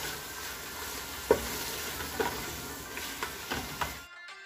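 Bitter gourd and meat curry with ground garam masala being stirred and fried in a pan, a steady sizzle with a few soft scrapes of the spoon, close and fairly quiet, then cut off abruptly.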